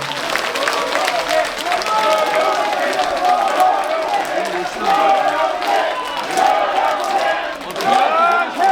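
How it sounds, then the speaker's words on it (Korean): Audience applause for three mayoral preliminary candidates after a joint campaign rally at a university memorial hall in Iksan: steady, dense clapping from a sizable crowd sustained throughout, with a voice speaking over it. "고생하신 후보자 세 분께 여러분 격려의 박수 부탁드립니다"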